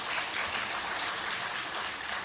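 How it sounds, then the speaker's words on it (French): Sustained applause from a large audience fills a hall during a round-table session at a heritage-house owners' congress, dense and steady clapping with no talk over it. "merci au grand applaudissement général"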